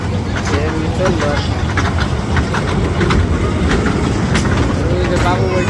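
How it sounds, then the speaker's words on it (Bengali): Train running past near a village fair in Bangladesh, a steady loud rumble with rhythmic clacking from the rail cars throughout, while people speak over it. "এই যে ট্রেন চলতেছে"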